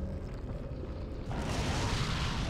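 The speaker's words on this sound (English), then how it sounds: "time for an incendiary grenade in the face" An incendiary grenade going off in Resident Evil 4: a dense low rumble that bursts into a loud, broad roar of flames midway and holds steady.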